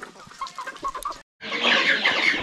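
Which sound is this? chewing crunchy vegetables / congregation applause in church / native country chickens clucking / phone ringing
native country chickens clucking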